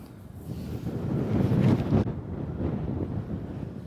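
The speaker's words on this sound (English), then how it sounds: "It's very windy up here, that's for sure." Strong wind buffets the microphone at the Merry Maidens, a hilltop stone circle near St. Buryan, at the winter solstice. The gusts swell into loud, rumbling roars, then ease off slightly.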